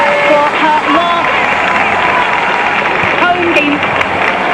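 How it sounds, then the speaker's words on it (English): Manchester United supporters applaud at a women's football match, producing dense, steady clapping and crowd noise from a large stadium, with a commentator talking over it. "Listen to that round of applause and huge applause from the Manchester United support there."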